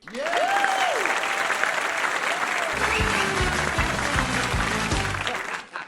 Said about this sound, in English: That was a good round of applause.